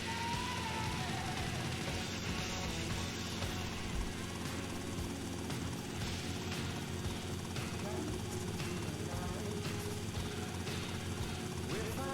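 A helicopter flies in GTA Vice City with a steady, close rotor and engine drone that holds constant for about twelve seconds, with game sounds layered over it.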